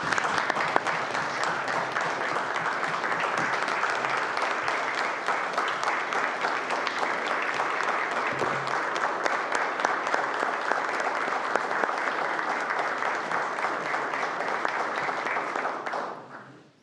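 A sustained burst of clapping fills the chamber of the Newfoundland and Labrador House of Assembly, dense and even for about sixteen seconds, then stops abruptly.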